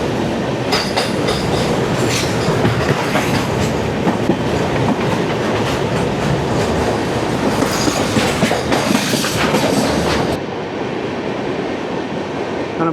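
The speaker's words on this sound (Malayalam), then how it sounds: "ഒന്നിനു പുറകെ ട്രെയിനുകൾ ഇങ്ങനെ പോയിക്കൊണ്ടിരിക്കും." A train runs along the automatic-signalled main line near Bharuch, loud and close, with continuous wheel roar, rhythmic clickety-clack and squeal, then a sudden drop to a duller rumble near the end.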